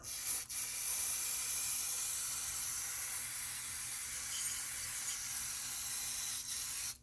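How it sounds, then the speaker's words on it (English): A steady aerosol spray of brake cleaner hisses continuously for about seven seconds on a 2006 Subaru Outback's transmission area, cutting off briefly near the start and again near the end. "take some good old brake clean and spray this area down."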